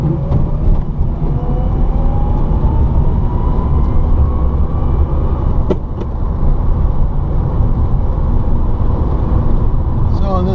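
An electric-converted VW Beetle drives along a road in second and third gear, a steady loud road and motor rumble with a faint rising whine and a couple of brief knocks, heard from inside the car.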